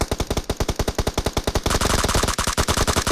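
Rapid automatic gunfire in a video game, loud and continuous, with an evenly spaced burst of shots that shifts to a denser, harsher stream of fire partway through, without any talk.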